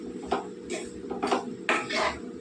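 Light clinks and scrapes of a spoon stirring turmeric and salt into oil in a pan, four or five short knocks spaced roughly half a second apart over a low background hum.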